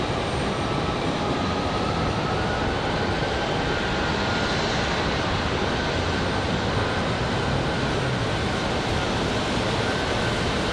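A FedEx airplane passing at Raleigh-Durham International Airport in windy conditions, heard as a steady, loud broadband engine roar that holds for the whole stretch without fading, with no talking.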